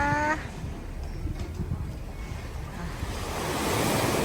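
Sea waves wash and hiss steadily at night beside a seaside restaurant, swelling louder toward the end, with a brief tonal sound at the very start.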